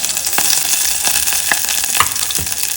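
Onion and green chilli fry loudly in hot oil with popping mustard and fenugreek seeds, a dense continuous sizzle dotted with sharp crackles and pops.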